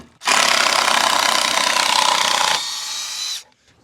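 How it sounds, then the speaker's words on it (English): An impact driver running in reverse to back screws out of pallet wood, a loud, close, steady whirring buzz lasting about three seconds that drops in pitch near the end before stopping. "impact driver in reverse to take screws out"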